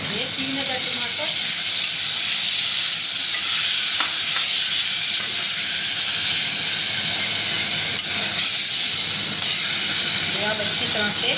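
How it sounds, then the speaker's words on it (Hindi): Tomatoes hit a frying masala for a liver and gizzard dish, giving a steady close hiss and sizzle with occasional stirring taps; a voice is faintly present. "फिर इसमें मैं टमाटर डालूंगी"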